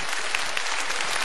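Audience applause in a television studio for a program host, a steady dense patter of many clapping hands at even loudness through a short burst, with no voices.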